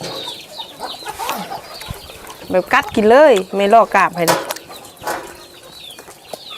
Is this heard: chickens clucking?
yes